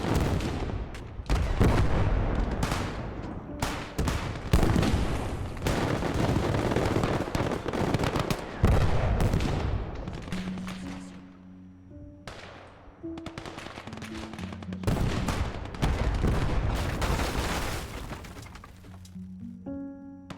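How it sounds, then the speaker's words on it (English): Artillery and a 20 mm ITK cannon firing in the war game Gates of Hell: continuous loud booms and rapid bursts overlap with little pause, with occasional short tonal game effects between salvos. "Can use artillery for this."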